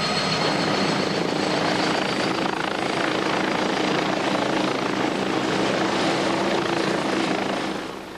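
A Scout helicopter, an old manually flown design, during a test flight: steady loud rotor thrum and engine whine filling the whole stretch, fading slightly at the very end.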